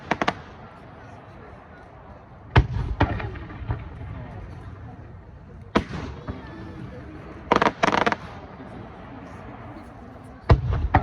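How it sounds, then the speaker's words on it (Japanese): Croisette fireworks at a summer festival display, several sharp booming bursts spaced a few seconds apart, some followed by crackling splits, over a continuous murmur of a distant crowd. "このような花火はクロセットと呼ばれております"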